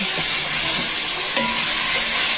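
Hamburger meat sizzles and fries in a pot while being stirred for chili, a steady close hiss with occasional scraping of the utensil against the pot.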